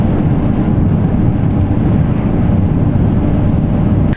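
A car driving through snowy mountains, a loud, steady, dense road and engine roar with no breaks, heard from inside the vehicle.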